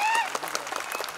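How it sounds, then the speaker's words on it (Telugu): An audience at a gathering applauds in a brief, dense burst of claps, with a faint tone fading at the start. "ఒక్కసారి గట్టిగా క్లాప్ చేయవచ్చు."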